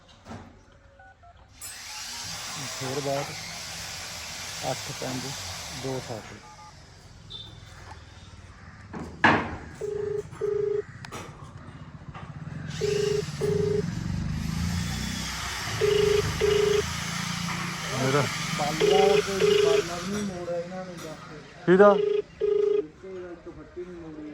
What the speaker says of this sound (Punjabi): ਲੈ ਵੀ ਫੋਨ ਕਰਨ ਲੱਗੇ ਆ ਬਿਜਲੀ ਵਾਲੇ ਨੂੰ